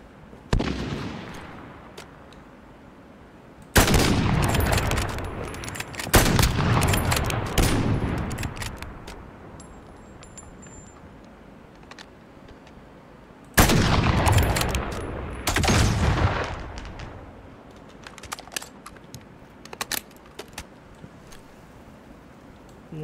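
Rapid gunfire in Call of Duty Modern Warfare multiplayer comes in two loud, dense bursts with booming shots, separated by quieter stretches and followed by scattered single shots.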